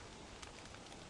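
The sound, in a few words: rain falling in a video game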